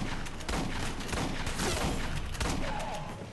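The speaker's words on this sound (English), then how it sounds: "Shotgun!" Dense, sustained gunfire from a video game battle, Aliens: Colonial Marines, with heavy overlapping blasts filling the whole stretch at close, loud level and a few sharper reports standing out.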